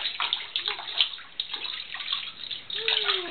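A child sloshes and splashes water in a filled bathtub in short, irregular bursts, close by, with a faint tonal sweep near the end.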